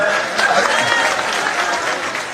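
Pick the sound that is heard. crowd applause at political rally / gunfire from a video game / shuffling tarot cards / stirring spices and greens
crowd applause at political rally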